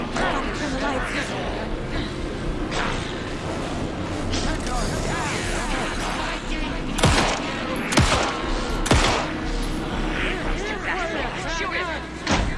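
Gunfire in the video game Alan Wake 2, several sharp shots and bursts over a dense, loud game soundscape with voices talking throughout.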